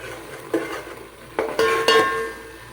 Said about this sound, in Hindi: अब हम इसको 5 to 7 मिनट के लिए अच्छे से भून लेंगे ताकि इसका कच्चापन खत्म हो जाए